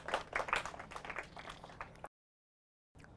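Applause from a quiz show audience, dense overlapping claps for about two seconds, then a sudden cut to silence before the clapping briefly resumes.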